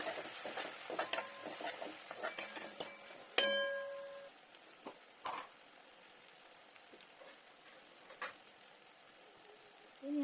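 A spoon stirs turmeric, chili powder, garam masala and coriander powder into a pan while cooking. Scrapes and metallic clinks come in uneven bursts over a faint sizzle, with one sharper clatter near the middle and no talking.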